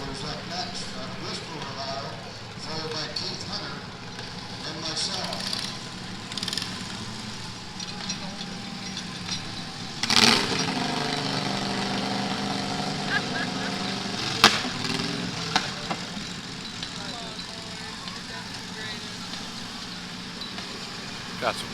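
Race tractor engines idle and rumble at the Ashtabula power show, a steady nearby drone with occasional louder bursts and clanks, while people talk over the noise.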